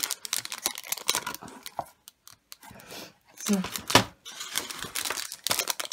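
Plastic bags crinkle and rustle in short, irregular bursts as a parcel of sweets is unpacked, with someone talking between the handling noises.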